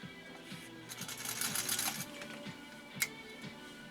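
A 1949 Singer 66-8 sewing machine stitching upholstery with a harpoon needle runs in a quiet, steady, rhythmic tick-tick of stitches, with a brief whirring rise and one sharp metallic click.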